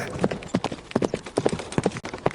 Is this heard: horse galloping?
yes